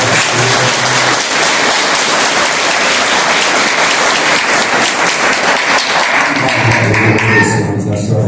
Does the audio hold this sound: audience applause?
yes